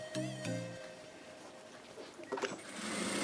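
A sewing machine stitches the edge of a kurta, short bursts of close mechanical whirring with small clicks and handling noises between runs.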